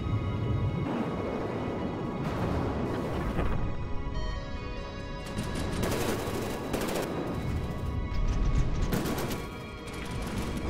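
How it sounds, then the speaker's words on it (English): A dense, continuous barrage of gunfire and heavy explosions rumbles through battle in the game From the Depths, with overlapping bursts, crashing impacts and loud booms and no pauses. "Big massive explosions,"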